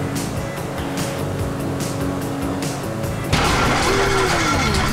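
Failing boat engine in the video game GTA 5, a steady rough motor drone with water wash that suddenly turns harsher and louder partway through, sputtering strain continuing to the end.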